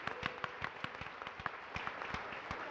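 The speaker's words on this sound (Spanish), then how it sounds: "seguimos aprendiendo juntos, un aplauso inmenso" A pharmacy education event audience in Medellín gives a short burst of applause, a thin scattering of distinct hand claps at a modest level lasting under three seconds, with no voices.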